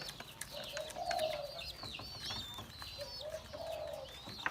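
Spotted dove chicks, hand-fed young Thai doves, give soft repeated cooing and begging calls, with a low coo and high thin chirps, close and steady over a faint background.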